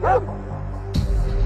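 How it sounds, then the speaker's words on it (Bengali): A big cartoon dog lets out two loud, close barks, one at the start and another a second later. "ওরে বাবা, হে কুকুরটা কত বড়!"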